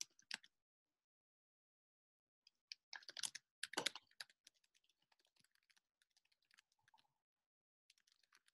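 Quiet, close typing on a computer keyboard, scattered key taps with a brief flurry in the middle and sparse clicks before and after.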